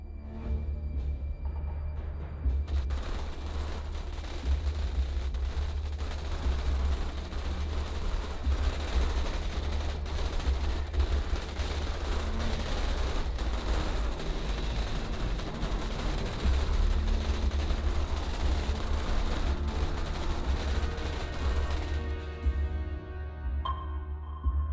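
Troopers firing at bugs in Starship Troopers Terran Command make a continuous dense barrage of overlapping gunfire with a heavy low rumble that holds loud and steady for about twenty seconds before trailing off.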